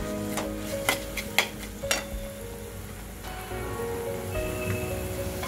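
Chicken kheema with onion and tomato sautéing in a pan, a soft continuous sizzle broken by several sharp scrapes and taps of a spoon stirring early on, fairly quiet and without talk.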